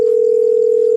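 A steady, unbroken telephone dial tone hums loud and clear while a call is being placed, alone without any talking.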